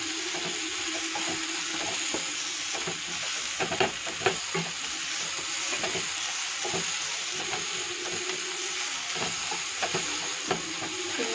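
Vegetables sautéing in a small amount of oil for veg noodles, with a steady soft sizzle and occasional scraping stir strokes throughout, no talking.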